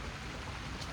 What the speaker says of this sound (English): the rain's starting to pick up a little bit